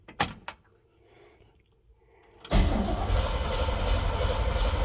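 A car engine catches and settles into a loud, steady idle after brief clicks and a short quiet stretch, running continuously to the end.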